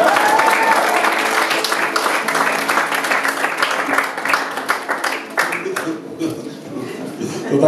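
Loud audience applause and clapping at an outdoor blues concert on the Schmelz, a dense sustained patter that thins toward the end, with crowd voices mixed in.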